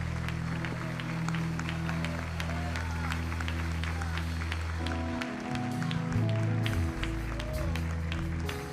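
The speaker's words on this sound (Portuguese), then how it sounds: "Vamos aplaudir a Jesus" A church congregation applauds steadily and loudly for several seconds over sustained low organ or keyboard tones, with voices mixed in among the clapping.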